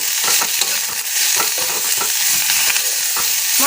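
Oyster mushrooms and potatoes stir-fried with turmeric and salt, a steady loud sizzle filling the pan with repeated scraping stirs of a spatula throughout.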